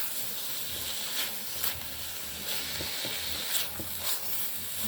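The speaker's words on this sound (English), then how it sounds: "we're gonna allow that to cook, to fry up and get flavorful" Turmeric rice ingredients frying in a single pot, a dense continuous sizzle with gentle stirring scrapes rising and falling, close and fairly loud with no talking.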